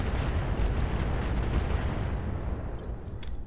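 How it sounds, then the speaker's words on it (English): Weapons volley in the Roguetech mod of BattleTech, a heavy continuous roar of cannon and gunfire blasts at steady loudness, with faint high mechanical tones creeping in toward the end. "Firing all weapons."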